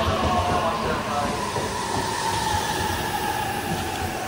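A Jōban Line train bound for Katsuta pulls away from platform 2 at a station, making a loud, close, steady rumble of rolling wheels with hiss and a faint high squeal running throughout.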